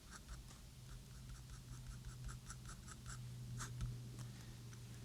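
Pencil shading on paper for a drawing of a Ford GT40, a quick rhythmic back-and-forth scratching in steady strokes, close and soft over a low hum.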